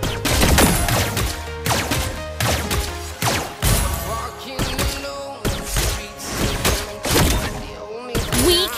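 Gunfire from a hero's gun in the Mobile Legends video game, repeated sharp bursts of shots with thuds and impacts amid busy game effects, loud and close.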